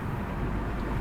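A car accelerates on the road during a driving lesson, heard from inside as a steady, full low engine and road rumble through one continuous second.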